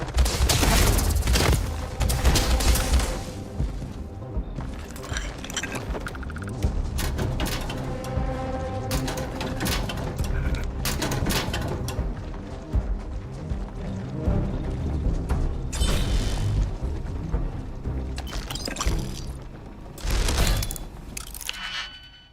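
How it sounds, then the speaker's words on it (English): Starfield combat gunfire against infested enemies, with repeated sharp shots and bursts scattered over a steady game soundscape, loud and irregular throughout with clusters of rapid fire. "now you can shoot him"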